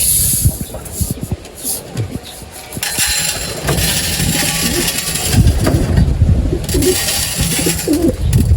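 Pigeons coo in low, throaty bursts close by while being fed, with a rumble like a passing train underneath and some background voices.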